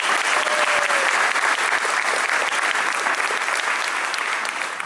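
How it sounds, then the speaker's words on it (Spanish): A church congregation applauds the Virgin Mary, dense sustained clapping from many hands filling the room, loud and even throughout with no talk over it. "Un aplauso a la Virgen María, hermano y hermana."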